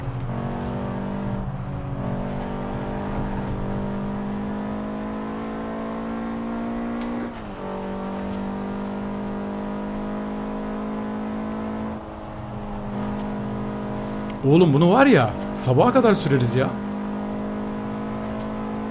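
A modified Audi S1 engine in Forza Horizon 4 holds a steady high drone, dips and climbs through gear changes, then revs sharply in a burst of rising and falling pitch near the end, while someone talks over it.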